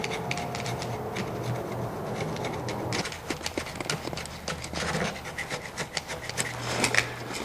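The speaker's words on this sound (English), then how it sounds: "I'm going to just use a flat blade screwdriver and scrape it out." A flat-blade screwdriver scrapes old material out of the inside of a latch clasp, giving a close run of dry, rasping strokes and scratchy scuffs with no voices.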